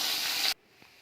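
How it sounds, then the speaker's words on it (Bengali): Oil sizzles loudly and hisses in a pan while something is fried until reddish for a fish curry. It lasts about half a second, then cuts off abruptly to near silence. "এই তেলের মধ্যে আমি কষটাকে লাল করে ভেজে নেব"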